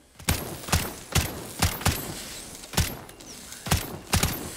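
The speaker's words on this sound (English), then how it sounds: "That's one thing Modern Warfare 3 does a lot, is these custom tracer sounds." Custom tracer gunfire from an XRK Stalker in Modern Warfare 3, heard as about nine sharp, spaced single shots with a bright metallic ring, fired at an uneven pace.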